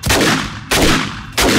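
Explosive arrows fired in the 7 Days to Die Darkness Falls mod (Alpha 21) give three heavy, booming blasts spaced evenly, each decaying into a rumbling tail before the next.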